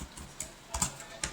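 Fingers type on a computer keyboard, a few soft, close key taps spaced irregularly over about a second, faint and without talk.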